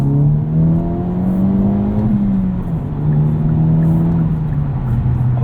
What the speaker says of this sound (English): we're gonna let these tires warm up just a little bit